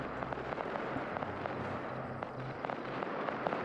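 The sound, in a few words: rocket artillery firing in a video game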